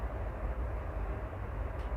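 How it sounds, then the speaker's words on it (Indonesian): An airplane flies over a mangrove park in Jakarta, heard as a faint, distant low rumble that holds steady for a couple of seconds. "Nah, itu suara pesawat teman-teman."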